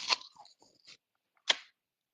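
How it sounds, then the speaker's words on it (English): A child bites into a crisp apple, with two sharp, close crunches, a longer crackly chew first and then a single bright bite, separated by near silence. "When they taste it, you heard the crunch."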